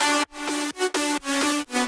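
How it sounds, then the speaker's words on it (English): An FL Studio synth lead melody with automated reverb steps through five or six sustained bright notes in a steady rhythm, each with a short wash of tail, heard alone. "You can see this is the reverb, and it just kind of flows along with the melody."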